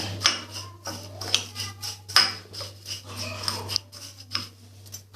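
A spoon mixes salted moong and chana dal in a bowl, giving a string of close scraping and light clinking strokes in an irregular rhythm over a low steady hum.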